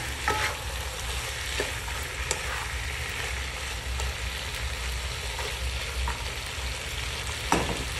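String beans (sitaw) stirred in a sautéing pan with patola, a soft continuous sizzle with occasional faint scrapes and clinks of a utensil, no voices.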